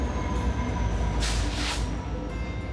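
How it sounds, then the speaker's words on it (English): A train rolls past on the tracks nearby, a steady loud rumble of wheels with a brief hiss or squeal partway through and no voices. "We're probably gonna go after this train gets past"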